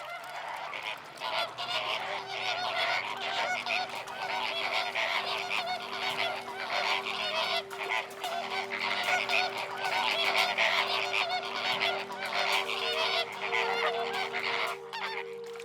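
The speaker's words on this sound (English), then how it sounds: "the incoming flamingos are all going in the same direction" A large flock of flamingos arriving at a nesting site in the Camargue wetlands, dense honking calls overlapping continuously and loud, with a steady low drone beneath.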